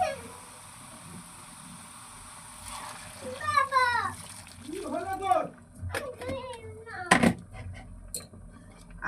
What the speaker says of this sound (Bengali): এবার গরম জলেতে দিয়ে দেব।